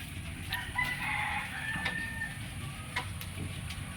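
A rooster crows in the background over steady outdoor noise, its drawn-out call rising and falling, with a few faint clucks mixed in.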